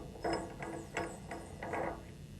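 A guide bushing is threaded and tightened into a steam valve, giving several short metallic ratcheting bursts in an uneven rhythm, close and fairly quiet.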